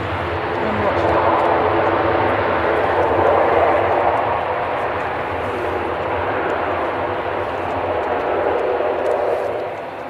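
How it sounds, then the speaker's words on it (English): An ATR turboprop airliner taxis at Manchester Airport in the early morning, making a loud, continuous engine drone that holds steady for the whole stretch and eases off slightly at the end. "We've got this ATR out on the taxi."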